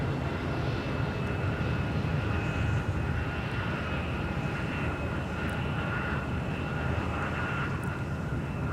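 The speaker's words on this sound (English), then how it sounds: "And here's Delta 1182 off to Tampa, Florida with an A321" A Delta Airbus A321 jet takes off from an airport bound for Tampa, Florida, giving a steady, broad engine roar heard from a distance without a break.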